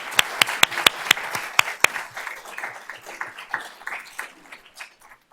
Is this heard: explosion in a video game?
no